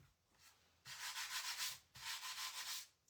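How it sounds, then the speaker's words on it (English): A sander runs close by in two steady bursts of about a second each, separated by a short pause, with no talking. "Oh, that was the wrong sander."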